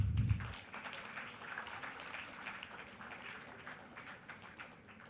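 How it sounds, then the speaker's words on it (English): Faint, distant applause from a conference audience, a soft wash of scattered clapping that holds steady and slowly fades, preceded by a brief low thump. "A round applause to him."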